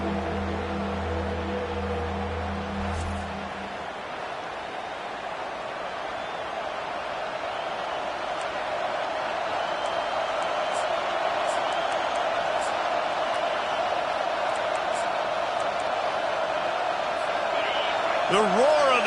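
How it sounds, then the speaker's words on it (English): Football stadium crowd roaring as fans try to fuel the defense during a college game, a dense continuous wash of noise that builds toward the end, with a commentator's voice over it. "The roar of the crowd trying to fuel this defense to keep them pinned in their own end."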